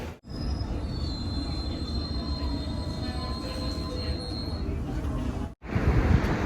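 A London Underground District line subway train rumbles loudly and steadily, with high wheel squeal running along the rails and a brief drop in noise just before the end.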